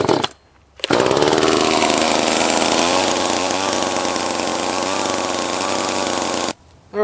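A top handle chainsaw, either a Stihl or an Echo, runs with the choke off. It starts abruptly and buzzes loud and close at a high, steady pitch for several seconds with slight rises and dips, then cuts out.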